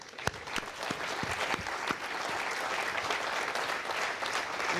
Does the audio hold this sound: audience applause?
yes